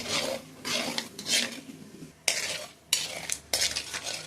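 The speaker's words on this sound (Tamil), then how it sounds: "கடுகு பொரியுது. இப்போ நம்ம உளுந்து தாளிப்புக்கு சேர்த்துக்கிறேன்." Mustard seeds crackle and splutter in hot oil for tempering, then urad dal is tipped in, producing a series of sharp, close bursts of popping and sizzling separated by short pauses.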